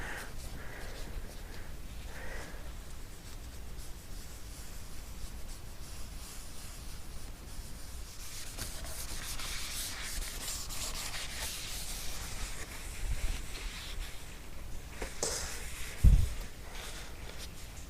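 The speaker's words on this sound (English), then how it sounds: "applied 3 good coats of wax onto this, letting them dry in between, and then wiping off the excess" Wax being rubbed onto a fiberglass roof-part mold and the excess wiped off gives a steady, close scrubbing rasp that runs the whole time without a break, with a brief knock near the end and no talking.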